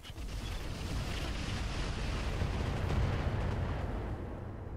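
Mech weapons fire in the BattleTech game Roguetech, a sustained rumbling barrage of heavy booms and blasts that holds steady and loud for several seconds with no talking.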